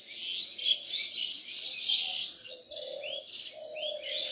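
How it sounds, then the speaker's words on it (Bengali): Birds chirp at dawn over empty green countryside, with repeated high tweets and a softer low cooing, like a dove, layered in a quiet, open setting with no voices. "পাখির কি শব্দ!"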